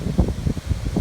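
Gusty wind buffeting the microphone beside Lake Michigan, rumbling low and uneven in repeated close bursts with no other sounds.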